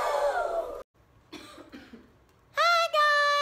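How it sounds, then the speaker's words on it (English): A woman coughs a few times in a short burst between bits of speech, close to the microphone, with voices talking before and after. "I've been coughing"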